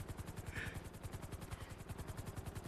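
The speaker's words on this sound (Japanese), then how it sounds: "人のヘリ" A helicopter in a video game gives a faint, steady rhythmic rotor thumping throughout, quiet and distant, with no voices over it.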